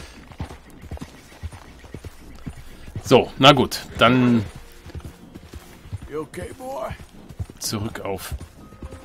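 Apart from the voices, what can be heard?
horse hooves in video game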